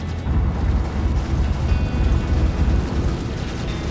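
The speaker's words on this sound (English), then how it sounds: "our 4 size 4 light strike cannons have stripped the shields right off of Valkyrie" Four size 4 light strike cannons fire continuously from an Andromeda gunship in the Star Citizen space game, a dense, heavy rumbling barrage of booms that stays loud throughout.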